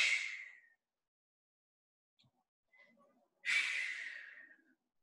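Two long, forceful exhalations from people during a live HIIT workout, each a loud rushing breath lasting close to a second, separated by a quiet gap with faint small noises.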